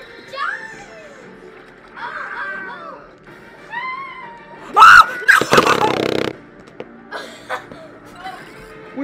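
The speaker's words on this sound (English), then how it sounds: "Did someone just scream?" A scream in the LittleBigPlanet 3 video game, a short sharp shriek among quick cartoonish character voices and bursts of game noise, with a player's voice over it.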